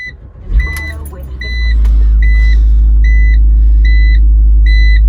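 A 2004 BMW X3 E83 engine starts with a brief crank, then settles into a steady, loud idle rumble, accompanied by a series of regular electronic chimes from inside the car.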